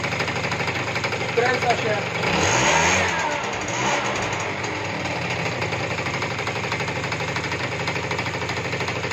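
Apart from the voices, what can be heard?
2-stroke scooter engine idling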